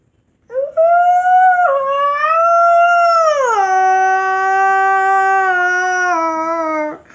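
A person imitates a loud wolf howl, one long sustained rising and falling tone with a glide downward midway, close and clear over near silence.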